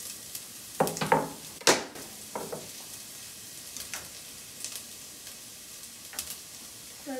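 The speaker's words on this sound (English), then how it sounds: "to my sesame oil I'm gonna add my garlic and my ginger" Minced garlic and ginger crackle in hot sesame oil, with bursts of sharp sizzle and scraping stir clicks early on, then a softer, scattered frying hiss.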